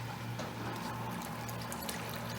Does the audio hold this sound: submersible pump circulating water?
yes